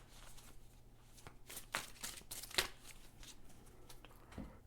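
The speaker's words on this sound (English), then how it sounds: "I'm going to pull these cards." Tarot cards are shuffled by hand in a quiet room before a reading, giving a soft riffling rustle with a few sharper slaps near the middle, faint and close, with no talk.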